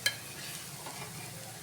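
Veg cutlet sizzling in a hot pan as it is flipped over, a brief sharp knock at the start followed by a soft, steady frying hiss.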